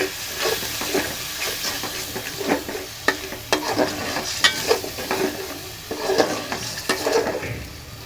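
Spice paste mixed with tomato paste being stir-fried for a Bengali fish curry, with sizzling and hissing in the pan and repeated scraping and clinking strokes of a spatula, close and moderately loud.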